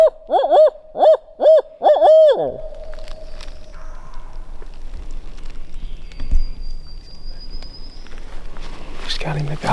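Five loud, close owl-hoot calls, likely a caller imitating an owl, open the scene, then quiet woodland follows with faint rustles, a thin distant tone and a brief gobble-like burst from a wild turkey tom some way off.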